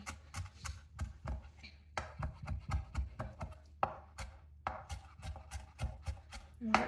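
A knife finely chops coriander leaves on a board, a quick irregular run of crisp taps in short bursts with brief pauses, close and fairly quiet.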